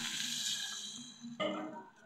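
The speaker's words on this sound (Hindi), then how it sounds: "अब इसमें डाल देंगे पकने के लिए पानी।" Water poured into a pan of rice for a bottle gourd and rice dish, a steady close splashing hiss that briefly surges louder partway through.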